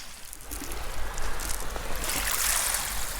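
Feet wade through shallow water along the rocky Lake Superior shore, giving a steady close splashing and sloshing with gentle surf behind it and no voices.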